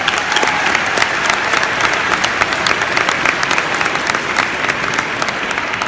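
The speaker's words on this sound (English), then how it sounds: "How about a big round of applause for everybody who's made it here today?" A crowd gathered for Social Work Day at a state capitol applauds in a dense, steady, loud burst that lasts the whole stretch, with no talking over it.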